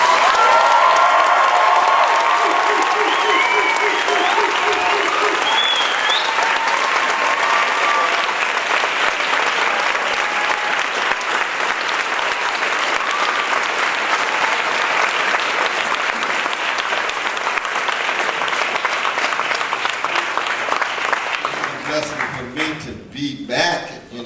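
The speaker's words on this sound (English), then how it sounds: "I need you all to give me a huge round of applause" A large audience gives loud, sustained applause with some cheering to welcome Dr. West at a campus talk on Ferguson, racism and the media, the clapping filling the room for over twenty seconds before fading.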